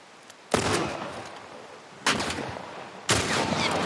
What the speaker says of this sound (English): I'm getting shot by that guy over there